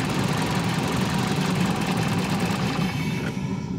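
Toyota Celica engine with a low-oil VVT-i fault and electrical connector trouble, idling roughly with a dense, uneven knocking rumble that sags near the end as it starts to stall, loud and close with no voices.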